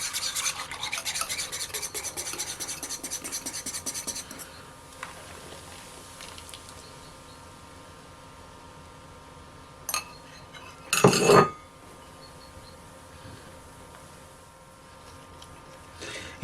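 Orange juice stirred with baking soda in a bowl gives a rapid scraping and clinking at the start, then quiet fizzing with a couple of sharp knocks later on.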